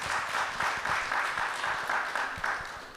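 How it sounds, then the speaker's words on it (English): A seminar audience applauds a speaker, a dense, steady wash of clapping from many hands that tapers slightly at the end, heard at moderate distance without talk over it. "clap your hands for Mr."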